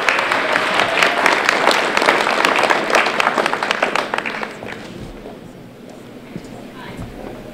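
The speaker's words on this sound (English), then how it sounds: "let's give them a big round of applause" An audience applauds at a family's charity talk, clapping loudly and densely for several seconds and then tapering off into a quieter room with a few scattered claps.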